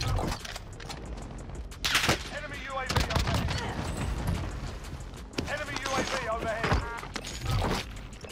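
Rapid full-auto bursts from a Streetsweeper shotgun in Warzone, crackling in clustered volleys with brief gaps, a commentator's voice talking over much of the shooting.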